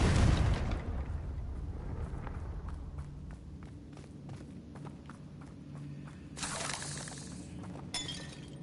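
A Confringo fire spell bursts in the Hogwarts Legacy video game, opening with a loud crackling explosion that fades into game ambience with light footstep-like taps and a second fiery whoosh later on.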